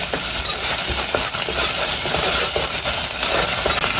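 Ginger garlic paste sizzles loudly in hot oil in a pan while being stirred, giving a steady, close frying hiss with faint scraping from the stirring throughout.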